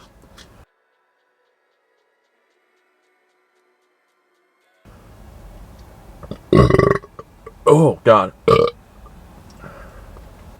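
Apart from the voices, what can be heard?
giant burp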